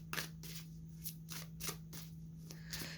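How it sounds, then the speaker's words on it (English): Tarot cards are shuffled in a series of quick riffles and slides, about half a dozen crisp bursts at a steady rhythm, close and soft over a faint hum. "let's pull a few more cards here."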